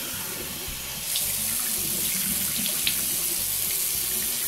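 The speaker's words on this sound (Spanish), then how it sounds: "Me lavo la cara con agua bien fría." Cold water runs steadily from a tap into a sink as someone washes their face, a continuous broadband splash with small droplet spatters, close and moderately loud, with no talking.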